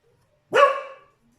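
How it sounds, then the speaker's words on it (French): A single dog bark, one short sharp woof that rings briefly, close and fairly loud against near silence. "c'est mon chien."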